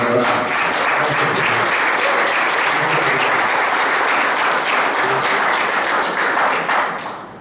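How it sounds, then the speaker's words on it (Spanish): A church congregation breaks into loud, sustained applause during a sermon, a thick, continuous roar of clapping with a few thumps that tapers off at the end. "Dar un aplauso a Cristo por esto."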